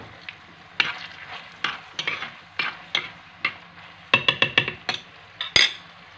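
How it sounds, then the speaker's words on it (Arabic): Onion frying in a tagine over a charcoal brazier, a soft background sizzle broken by repeated stirring scrapes and clinks from a utensil against the pot, some in quick clusters. "دابا درنا البصله ديالنا تشحر"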